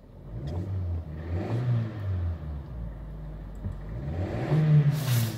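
Honda Jazz engine running smoothly with no misfire, a steady mid-pitched hum that swells slightly as if lightly revved, close by with no talk.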